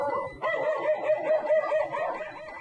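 Rescued abandoned dogs at a crowded emergency shelter bark in a quick, repeated run of fairly close, yelping barks with no talk over them.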